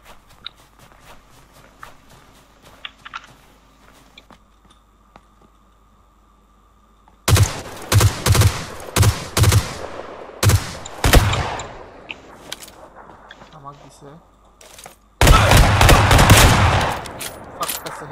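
Gunfire in PUBG PC Lite, with two loud, dense bursts of rapid automatic shots separated by single cracks and footsteps, all starting after a quiet stretch with faint game ambience.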